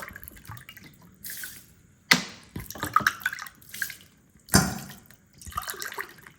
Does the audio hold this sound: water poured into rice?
yes